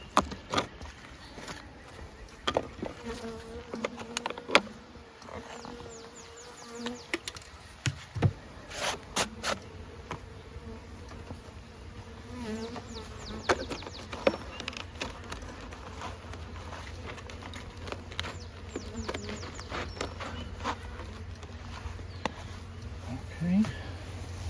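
Bees buzz faintly around a beehive while hives are being moved, a soft intermittent droning under scattered taps, handling noises and footsteps, with people talking now and then.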